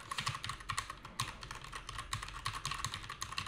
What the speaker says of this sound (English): Now I will smash the keyboard.